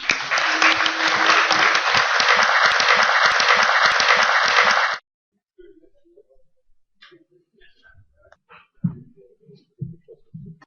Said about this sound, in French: Merci d'applaudir Dominique Bilot.